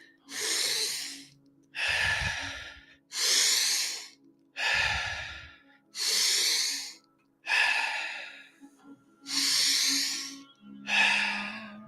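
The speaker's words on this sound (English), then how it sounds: "At your own pace, start to build the breath." Slow, deep guided breathing during a breathwork session, eight long rushing inhales and exhales at a steady pace, close and loud, with no talking.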